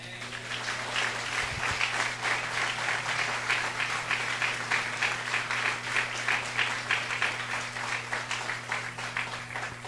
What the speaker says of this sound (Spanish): Qué bueno es el Señor, démosle un aplauso.